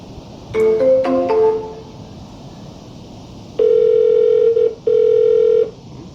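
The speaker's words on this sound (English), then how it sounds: "At least we got a dial." A telephone line gives a few quick tones at first, then after a pause a loud, steady dial tone sounds twice, broken by a brief gap.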